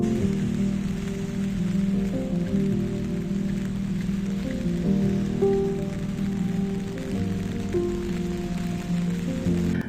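Rain falls on a rainy Kyiv street in November as a steady, even patter, with a soft tonal hum running underneath and no voices.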